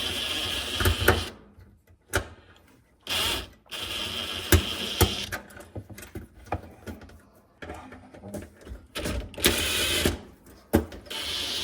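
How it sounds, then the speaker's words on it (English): A power drill backing Robertson screws out of an Elmira stove panel: several close, loud whirring bursts of a few seconds each, separated by short silent pauses. "Now we're going to use the drill to take out these screws first."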